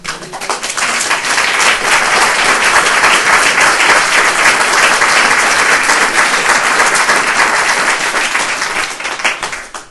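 An audience at a speaker series event applauds a speaker in a loud, close, sustained round of clapping that swells and holds for several seconds before thinning out at the end.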